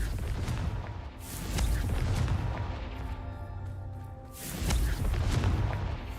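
Confringo spell explosions in the video game Hogwarts Legacy, two deep booming blasts with rumbling tails, one near the start and another around the five-second mark, loud and close.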